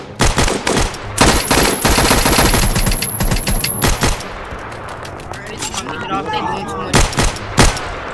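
Loud bursts of automatic gunfire from a Roblox hood shooter game set in NYC, rapid rattling volleys with short gaps between them, close and dominant over some background game noise.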